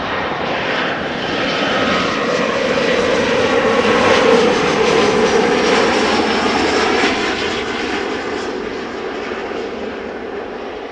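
An Embraer jet arrives at Amsterdam Schiphol Airport with a loud, continuous engine roar and broad rushing whine. The sound swells to a peak near the middle and eases slightly toward the end.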